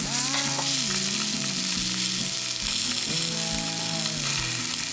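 Food pan-fries on a camping stove at a campsite under bald cypress trees in Nanzhuang, Miaoli, making a loud, steady sizzle throughout, with a sustained tonal melody running over it.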